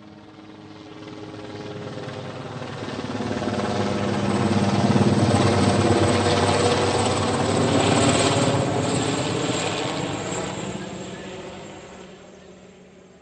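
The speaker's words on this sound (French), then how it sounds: "L'hélicoptère." A helicopter sound effect from the children's video game Adiboud'chou dans la jungle et la savane: the rotor chops steadily as it approaches, grows loud overhead, then fades slightly, with a continuous engine whine throughout.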